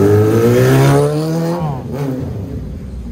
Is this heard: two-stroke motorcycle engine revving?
yes